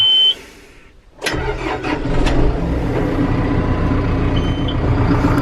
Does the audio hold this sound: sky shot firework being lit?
no